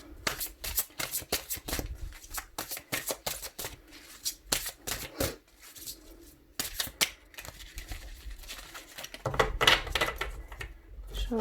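Playing cards shuffled and cut by hand during a tarot reading, a long run of quick riffling bursts and soft slaps with brief pauses, close and clear with no talk.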